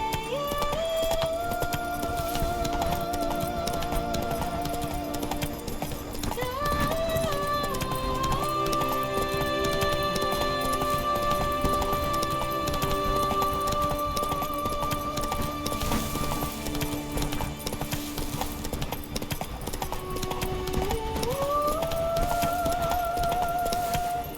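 Roach the horse galloping in The Witcher 3, a fast continuous clip-clop of hooves over a game music bed, sustained and loud throughout.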